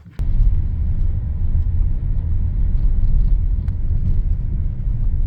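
A car drives along a desert road near Susanville, a steady low rumble of engine and tires from inside the cabin, constant and fairly loud after a brief quiet start, no talk.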